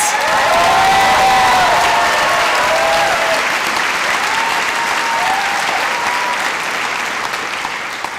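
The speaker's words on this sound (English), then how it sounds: "Let's give ourselves an extremely well-earned round of applause." Loud, sustained applause from a graduation convocation audience at NYU Wagner, the crowd clapping densely throughout with faint voices and a few whoops mixed in, tapering slightly toward the end.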